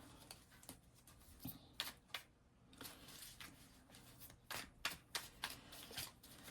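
Crystal tarot cards shuffled by hand for a reading, a run of soft, rapid riffles and flicks with sharper slaps near the end, close and fairly quiet.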